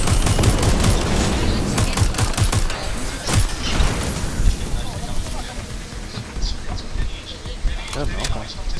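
Rapid bursts of gunfire in the video game Watch Dogs Legion, dense volleys crackling through the first few seconds and then thinning into scattered shots over a steady rumble of game ambience, with voices talking throughout.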